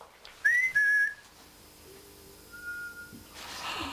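A whistled two-tone call, a short rising note followed by a held higher note, clear and fairly close in a quiet room, then faint shuffling and a softer later tone.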